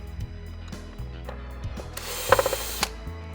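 Screws being undone from the motor controller of an MGI Navigator Quad Gyro golf trolley, with close, loud ratcheting clicks from a screwdriver repeating in steady bursts and a sharper burst near the end, with no talk.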